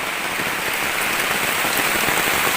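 Heavy rain pours down in a forest during a storm, a loud, dense, unbroken hiss of drops pattering on surfaces close by, with no voices over it.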